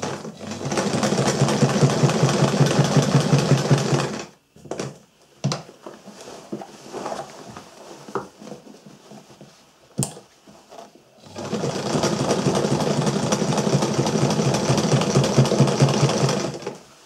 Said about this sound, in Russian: Итак, шьем, пока мы не покроем всю нашу заплаточку